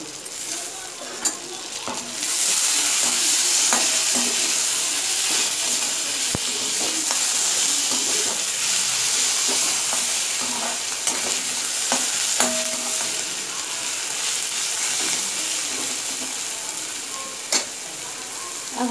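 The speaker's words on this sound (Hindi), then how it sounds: "अब ये प्याज आधा हो चुका है, तो हम इसमें डाल देते हैं एक टमाटर।" Onion and tomato frying with turmeric, coriander powder and chili powder in a pan for cholai bhaji, a loud continuous sizzle with scattered clicks and stirring scrapes throughout, no voices.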